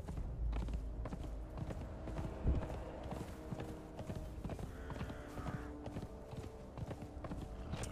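Horse hoofbeats from riding in the video game Conan Exiles, a steady clip-clop running throughout under a dense layer of game ambience and music, with no talking.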